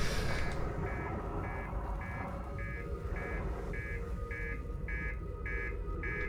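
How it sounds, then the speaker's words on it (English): An alarm in the video game Outer Wilds beeps in a steady, evenly spaced rhythm of about a dozen short tones over a constant rumbling background, with no talk. "Where's the button to make you stop beeping?"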